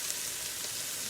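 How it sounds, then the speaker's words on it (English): Butter melted in a Ninja Foodi pot hisses and sizzles steadily as flour goes in, a continuous bright frying crackle with no talking. "All right, all the butter is melted, and now we're going to throw in 1/4 cup"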